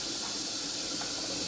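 Hot water runs from a tap into a sink as a steady, close hissing rush with no breaks.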